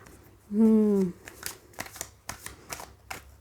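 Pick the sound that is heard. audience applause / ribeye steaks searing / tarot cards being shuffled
tarot cards being shuffled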